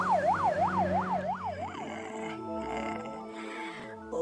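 A wailing ambulance siren rises and falls rapidly, then shifts to a slower, lower wail, loud and close with traffic noise underneath.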